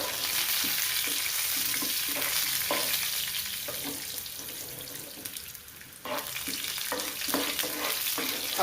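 Lentils and cumin fry in hot oil for a tempering, producing a continuous close sizzle with scraping stir sounds mixed in.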